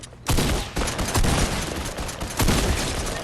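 Dense rifle gunfire in a video game, a loud, sustained volley of overlapping shots and blasts that surges in several waves, with no voices.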